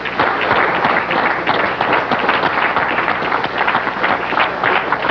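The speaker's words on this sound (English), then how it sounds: "Erupted in applause." Mission control staff break into dense, continuous applause after the Deep Impact comet impact, many hands clapping close together at a steady loudness throughout.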